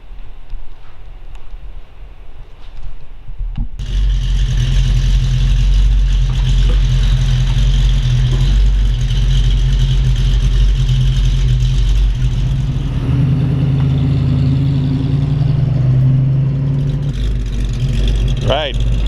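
A 1932 Ford Model 18 roadster high-boy hot rod engine runs steadily at close range with a deep, rumbling idle, starting after a few quiet seconds and holding loud and continuous to the end.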